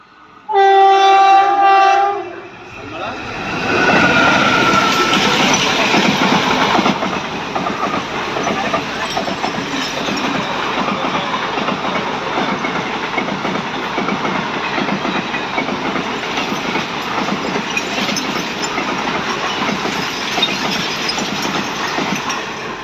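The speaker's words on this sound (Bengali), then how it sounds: "তো ট্রেনটা চলে আসলো, এইটা দ্বিতীয় ট্রেনটা গেল আর কি" A train sounds a loud, sustained multi-tone horn for a couple of seconds, then thunders past close by with a long, heavy rumble and rattling wheel clatter that holds steady to the end.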